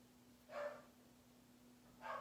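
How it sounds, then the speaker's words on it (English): Two short, muffled barks from a dog, spaced about a second and a half apart, faint and somewhat distant over a quiet background hum. "sorry that you can hear the ambiance of my dog barking"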